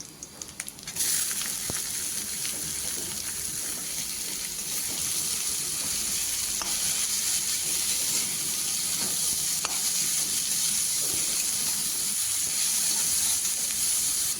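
Data shak greens dropped into a pan of fried onion, garlic and chilli set off a loud, steady sizzle that carries on continuously with crackles and occasional stirring clicks.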